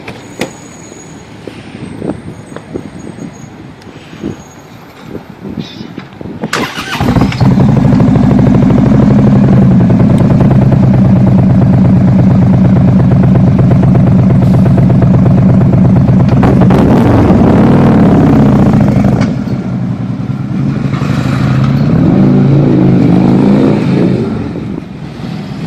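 An engine idles, then roars loudly through aftermarket exhaust pipes and mufflers, holding a heavy, sustained rev for many seconds before dropping and rising again.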